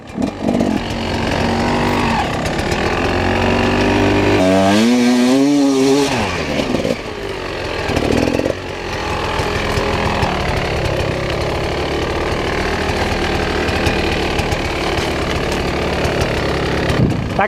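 Enduro motorcycle on sand pulling in second gear, heard up close and loud. The engine revs rise and fall with a rough, buzzing drone and a brief sweeping surge midway.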